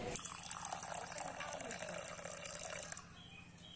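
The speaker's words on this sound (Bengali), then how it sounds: "চালগুলো ভালো করে ধুয়ে কিছুক্ষণ ভিজিয়ে রেখে দিব" Aula rice is washed in water by hand, with continuous close sloshing and splashing that fades slightly toward the end.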